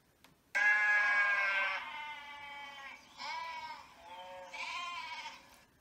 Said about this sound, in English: Those were sheep saying baa.